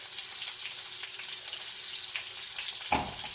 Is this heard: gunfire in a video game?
no